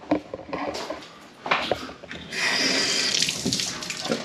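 Water runs steadily from a tap, a broad rushing splash that starts after a few scattered clatters and continues loud and close to the end.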